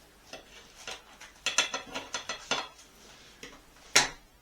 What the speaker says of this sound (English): Let's cut the pizza.